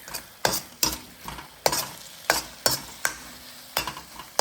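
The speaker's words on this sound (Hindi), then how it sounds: "तो लहसुन तो 30 सेकेंड फ्राई करना है।" Garlic and ginger stir-frying in a pan for a beef chilli stir fry, with a run of sharp, regular scraping and sizzling strokes about every half second, close and fairly loud, with no talk.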